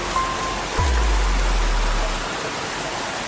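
A river flowing below a viewpoint near a waterfall makes a steady, close rushing wash throughout, with a single low bump early on.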